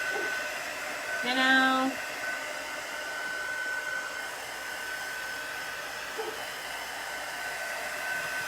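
A heat tool blows steadily while drying Chalk Couture paste on a flag, a continuous close whir running the whole time, with a brief voice speaking over it early on.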